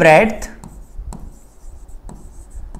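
Pen scratching out figures by hand during a Class 8 mensuration math lesson, a few short strokes close by after a brief burst of a voice.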